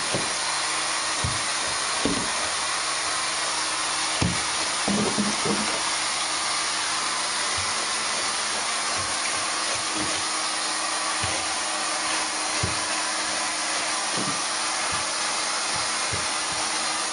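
A Rotovac 360i stair cleaning head runs with a steady, loud whirring hiss in a customer's house, punctuated by brief knocks and bumps as it moves over the stairs.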